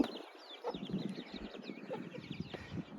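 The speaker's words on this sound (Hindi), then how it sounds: "और यहाँ पर ये मुर्गियाँ और इनके बच्चे।" Chickens and their chicks along the Naina Peak trail above Nainital, Uttarakhand, clucking and peeping in short, scattered calls at moderate distance, with faint wing flutters and no talking.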